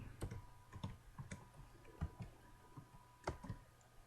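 Scattered keystrokes on a computer keyboard, about a dozen quiet close clicks in an uneven rhythm against a faint hum, with no voices.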